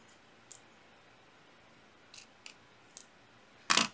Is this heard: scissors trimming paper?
yes